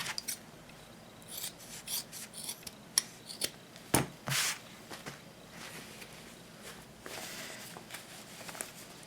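Scissors snip through the fabric seam of a car organizer, with sharp close cuts and rasping rubs of cloth in uneven bursts, a louder cluster of snips near the middle.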